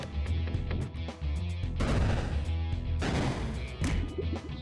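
Bombs blowing up in the video game Peglin, a run of loud, dense booming bursts and crashes with ringing tones, repeating through the clip over a steady game soundtrack.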